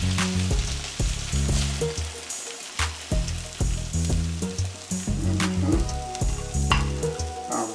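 An egg sizzles in a pan with crispy potatoes for a breakfast frittata, its crackling hiss running under loud rhythmic music throughout.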